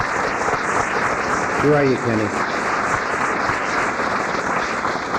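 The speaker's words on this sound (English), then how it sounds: "a round of applause, he put this together" A theatre audience applauds at a memorial event at the Egyptian Theatre in Hollywood, a steady wash of clapping under a man briefly calling out.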